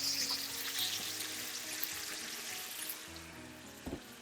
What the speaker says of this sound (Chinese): 煸炒出酱香味